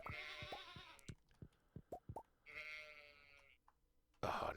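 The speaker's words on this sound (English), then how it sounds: "happy goats." Goats in the farming game Stardew Valley bleat several times in short wavering calls, interspersed with soft plopping game effects.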